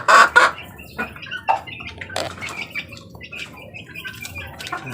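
Chicken clucking and squawking nearby in a backyard flock, loud sharp bursts with short pauses in between, a young bird from a second batch about to start laying eggs.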